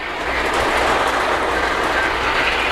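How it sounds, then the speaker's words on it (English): Polar Express model train locomotive running on track, a steady close rumble with soft clickety-clack throughout, no voices. "That's the locomotive for the Polar Express passenger train, and we're going to put that in motion."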